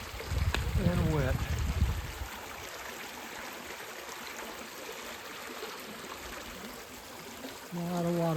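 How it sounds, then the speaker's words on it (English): Floodwater rushes in a steady broadband wash down a hillside stream during flash flooding, with someone talking nearby at the start and end. "A lot of water flowing down through there."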